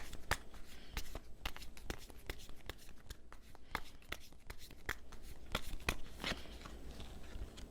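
Tarot cards being shuffled and drawn at a table, a steady run of soft rustles and sharp card snaps and flicks, close and quiet, with no voices.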